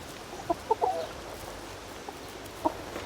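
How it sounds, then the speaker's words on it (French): A few faint, brief hen clucks in quiet open air, three small hens left on a farm after a wildfire tore through Gironde, France, with a short burst early on and one more call near the end. "3 poules. 3 petites poulettes."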